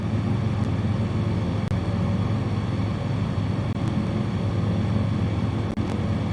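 Steady, loud propeller aircraft engine drone from a bush plane in Microsoft Flight Simulator 2020, holding a constant roar throughout with no voices.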